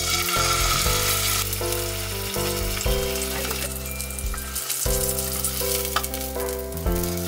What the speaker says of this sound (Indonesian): Sediakan pan dan panggang bersama sedikit minyak zaitun